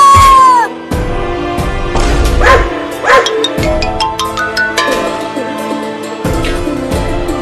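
High-pitched yips and barks from young dogs, repeated in quick bursts over a cartoonish, busy music background.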